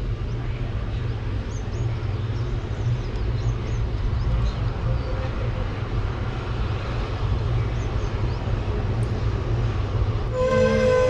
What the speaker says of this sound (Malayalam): അടുത്തൊരു സ്റ്റേഷൻ എത്തിയിട്ടുണ്ട്.